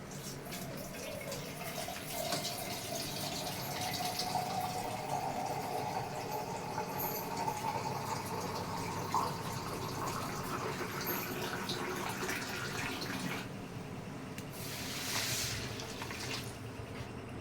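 Water poured from a small metal vessel in a kitchen, a steady splashing gush that runs continuously and fairly close, with a brief stronger surge near the end.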